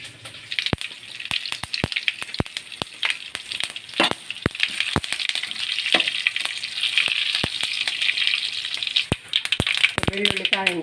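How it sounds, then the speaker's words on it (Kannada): Mustard seeds and garlic splutter in hot oil, with sharp irregular pops and crackles over a steady sizzle; a brief voice is heard near the end. "ಬೆಳ್ಳುಳ್ಳಿ ಕಾಯಿಂದು ಬೊಕ್ಕ ಸಾಸಿವೆ ಚಟಪಟ ಪನ್ನೊಂದುಂಡು"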